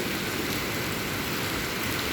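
Heavy rain falls steadily, a dense continuous hiss of water close by, seen from a window, with no pause across the whole stretch and no voices over it.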